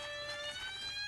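A toy fire truck siren wails steadily for a brief moment, a thin electronic tone held at moderate loudness over a soft background hiss, with no one talking.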